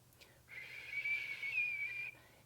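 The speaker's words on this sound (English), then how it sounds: "exhale through the mouth with a whistle" A breathy, whistled exhale through pursed lips, one steady high tone lasting under two seconds, close and clear against a quiet room.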